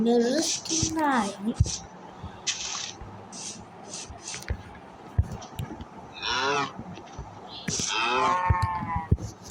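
Cows moo outdoors, several drawn-out calls near and farther off over steady background noise, with people talking in between.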